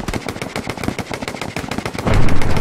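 Rapid automatic gunfire in the World War II shooter game Hell Let Loose, loud close bursts of machine-gun shots in quick rhythm, ending in a heavier roaring blast.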